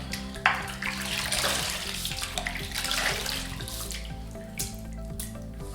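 A shaving brush is rinsed under a running sink tap: a steady rush of water splashing close by, with a few sharper spatters and drips through it and a faint hum underneath, and no speech.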